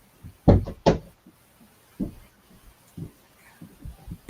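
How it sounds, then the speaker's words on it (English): A room door is pushed shut with two loud, close wooden thuds in quick succession, followed by a few softer knocks and handling noises. "I just gotta close my door."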